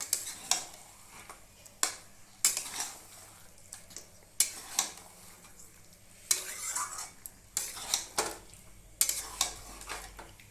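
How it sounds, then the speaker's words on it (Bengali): Chicken pieces stir-fried in a pan for a restaurant-style Bengali chicken curry: irregular scraping spatula strokes against the metal pan over a soft, quiet sizzle, close and otherwise wordless. "এবার মাংসটা দিয়ে দিচ্ছি। এবার একসাথে ভালো করে কষে নেব।"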